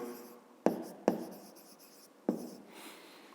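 A pen strikes and scratches across paper in three distinct taps with brief scribbling between them, close and quiet, while working a fifth-grade math exercise.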